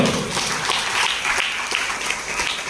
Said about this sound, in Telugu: గట్టిగా చప్పట్లు కొట్టు